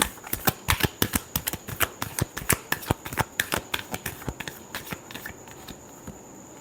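Tarot cards are shuffled by hand in a rapid run of crisp flicking snaps, dozens of sharp close taps in quick succession that slow slightly and fade toward the end.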